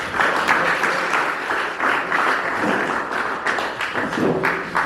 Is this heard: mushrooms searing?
no